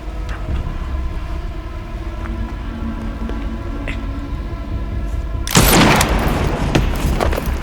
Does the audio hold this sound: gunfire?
yes